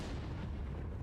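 A grenade explodes in a video game shooter match, a single dense, loud boom that fills the brief moment with no voices over it.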